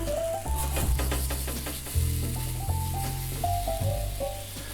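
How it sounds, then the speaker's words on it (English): Tamale pancake batter sizzling on a lightly greased hot griddle, a steady close crackle and hiss with soft scraping and clinks of a spoon and some faint background music. "I'm just going to spoon these out onto a lightly greased hot griddle"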